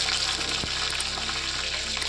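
Bay leaf and panch phoron spices fry in hot oil for Bengali alur dom, a close, steady crackling sizzle with a brief spoon knock near the start and no talk.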